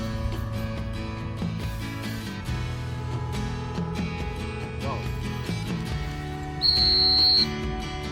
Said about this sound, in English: Now I'm introducing a few whistle commands.